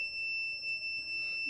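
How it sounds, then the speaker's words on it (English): Electronic buzzer in a breadboard circuit giving off a continuous high-pitched tone that holds steady, close and clear, with no other sound. "As you can see, the buzzer is making some sound."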